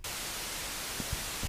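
Harsh, hissing white noise from a synthesizer fills the clip at a steady level, with faint low thumps near the end before it cuts off.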